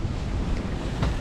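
Strong wind of about 20 knots blowing across a reefed sailboat at sea, a loud, steady rushing roar of wind on the microphone mixed with wave wash, with no talking.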